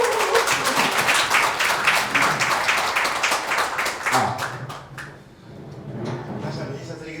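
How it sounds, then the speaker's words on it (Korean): An audience at the launch ceremony of an economic research institute claps to welcome a speaker: dense, brisk applause for about four seconds that thins into scattered claps as a voice begins speaking. "뜨거운 박수로 정진우 소장님을 환영해 주시면 감사하겠습니다"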